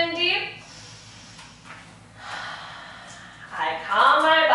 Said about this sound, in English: I can cross my arms and breathe in deep.